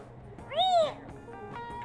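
A single clear synthetic-sounding cat meow from a toy robot rises and falls once, fairly close, over a quiet background with faint murmurs.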